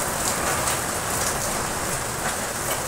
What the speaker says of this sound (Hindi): अभी फिर बड़ी तेज़ बारिश हो रही है